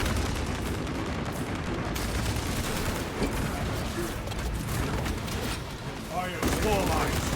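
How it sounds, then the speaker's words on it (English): Rapid, dense gunfire and explosive bursts from the video game Space Marine 2, sustained loud shooting with clattering mechanisms and booms, mixed with in-game character voices calling out. "Spore mines! Shoot them!"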